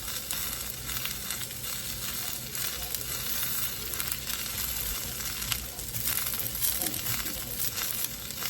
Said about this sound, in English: You do not want to burn your garlic.